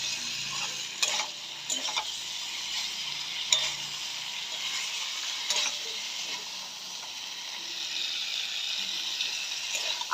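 Potatoes and pointed gourd sautéing in a pan for a paneer curry, a soft steady sizzle with a handful of scraping stirs spaced irregularly, fairly quiet and without speech.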